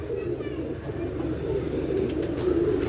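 A pigeon on a rooftop coos in low, repeated throaty calls that stay close and steady, mixed with faint background noise and occasional soft chirps.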